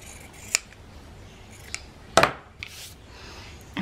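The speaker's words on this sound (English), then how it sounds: "And then I'm going to trim here once again." Scissors trim a paper envelope in a few short, crisp snips, one sharp cut standing out among quieter clicks. No voice is heard.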